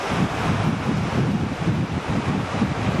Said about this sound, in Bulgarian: Снощи се къпахме в 6 часа с Калянчо, имаше доста големи вълни, докато сега вълничките са по-навътре.